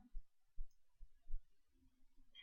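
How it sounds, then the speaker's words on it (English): Computer mouse double-clicking on an entry in an accounting software register, a few soft, close low clicks spaced apart over a quiet background. "I can double click on that"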